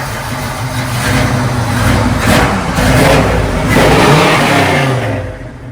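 A 1957 Chevy 3600 hot rod engine revs loud and close, surging in repeated throttle blips over a deep idling rumble before easing off at the end.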